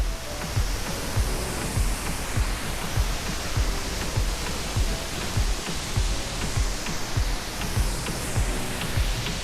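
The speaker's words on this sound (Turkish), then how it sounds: "Evet şelalemiz bu." Waterfall near the Tegalalang rice terraces in Ubud, a constant broadband roar of rushing water filling the scene, steady and loud without pauses or voices.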